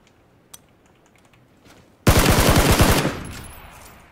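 Automatic gunfire in PUBG Battlegrounds erupts as a sudden loud burst of rapid shots lasting about a second, then fades into a ringing tail, with quiet game ambience and a faint click before it.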